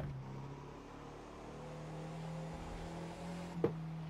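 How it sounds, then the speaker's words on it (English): A Fiat 500 Abarth engine in the racing video game The Crew 2 hums steadily with a low drone and rising pitch, then a brief sharp knock near the end, with no one speaking. "I do like the sound of the engine."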